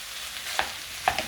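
Ground beef for lasagna is stirred with onions and carrots in a pan: a soft, low frying hiss broken by two sharp scrapes of the utensil, close by and quiet, with no speech.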